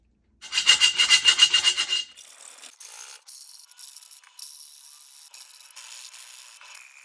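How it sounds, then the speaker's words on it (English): A round file rasps by hand across a cheap Chinese aftermarket exhaust downpipe: about two seconds of quick, loud, rhythmic back-and-forth strokes, then softer, uneven scraping and light metallic rattles close by. "So we'll just simply file it by hand."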